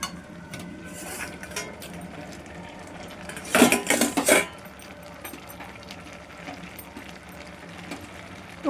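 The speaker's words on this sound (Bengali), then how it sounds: "ঢাকনাটা খুলে দেখি।" A metal lid is lifted off a cooking pot of spinach curry, giving a brief clatter and scrape midway through, set against low kitchen background noise.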